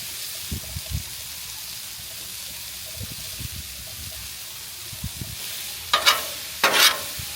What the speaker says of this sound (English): Let's just stir it together and let it start cooking down.